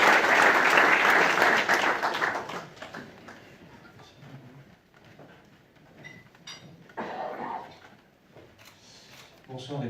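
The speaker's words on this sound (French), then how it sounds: "je vous demande d'applaudir" Dinner guests applaud at a business association's annual banquet, a loud burst of clapping for the first few seconds that quickly thins out, followed by quieter room noise, shuffling and scattered murmurs.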